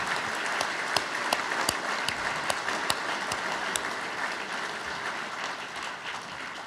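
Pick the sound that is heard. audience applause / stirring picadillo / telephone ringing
audience applause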